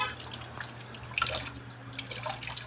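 Running tap water splashes and drips while milkfish (bangus) is washed in a sink, a steady close wet rush with scattered splatters and a low hum beneath.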